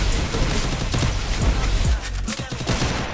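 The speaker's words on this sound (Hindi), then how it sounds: "अरे भाई बूम बम चलने लगा है अब तो।" Loud, dense bursts of explosions and rapid gunfire in a video game battle roll on without pause, booming and crackling up close.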